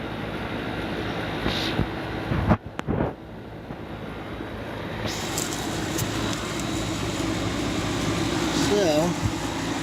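An iced-up outdoor air conditioner unit runs with a steady mechanical hum and fan whir, heard close by outdoors with some wind buffeting, a brief handling clunk and a voice talking over it.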